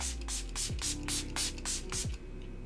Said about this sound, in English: It had a really nice fine mist.